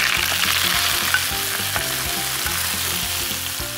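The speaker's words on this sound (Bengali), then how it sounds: "রসুন পেঁয়াজ সব ভাজা হয়ে গেছে, এবার ঢেলে দিব।" Fried onion and garlic tempering poured into cooked lentils, giving a loud, continuous sizzle with rhythmic stirring scrapes throughout, close up and without talk.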